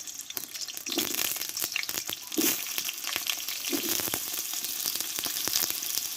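Washed, cut potato pieces fry in hot white oil in a kadai, a dense crackling sizzle close up with sharp pops and occasional stirring scrapes, no talk.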